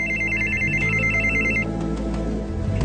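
A telephone bell rings in a repeating electronic trill, loud and up close, followed by a steady indoor hum once the ringing stops, with no voices over it.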